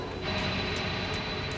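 Aircraft engines roar in a dense, steady, broadband rush as the throttles are pushed forward for takeoff. The sound is loud and continuous, with no talk over it.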